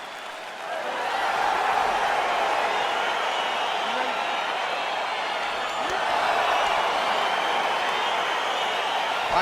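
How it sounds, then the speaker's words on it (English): Crowd noise from the EA Sports UFC 4 fight game, a broad sustained roar of an arena audience, steady and fairly loud throughout as the bout begins. "crowd getting excited as this fight gets underway"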